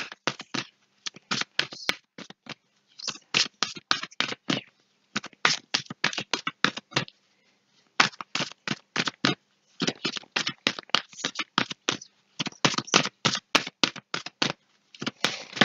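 Oracle cards for energy release are shuffled and drawn in rapid, crisp riffling bursts, near and fairly loud, with short pauses between each run of flicks and no voice over them.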